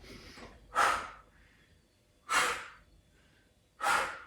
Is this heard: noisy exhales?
yes